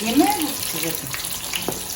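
Sausages wrapped in dough drop into hot oil and sizzle with a soft, steady hiss, while a voice speaks briefly over the frying.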